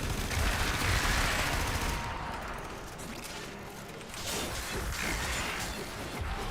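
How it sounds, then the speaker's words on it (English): Gunfire from a weapon in the video game Warframe, a dense, continuous rattle of shots over loud game noise that eases for a couple of seconds midway, then picks up again. "I can shoot them with my gun"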